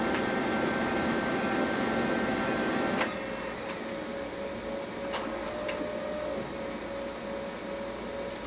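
A Brother MFC-9970 laser printer initializing after a drum replacement: a steady internal mechanical whir and hum that drops in level partway through, with a few faint clicks, continuous and moderately quiet.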